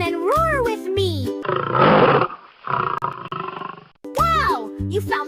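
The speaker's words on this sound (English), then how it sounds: "Wow, you found the lion's roar." A loud lion roar rolls for about two and a half seconds between bright, sung children's-song phrases, with a short grunting tail fading out before the music returns.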